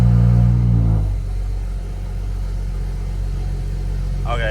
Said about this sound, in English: I know my car is loud